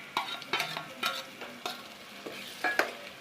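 Chicken sukka masala paste fries in oil in a pan while being stirred, giving repeated scraping strokes over a soft, steady sizzle, close and clear with no talking.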